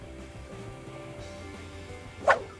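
A single short dog bark rings out near the end, close and fairly loud, over a low steady background hum.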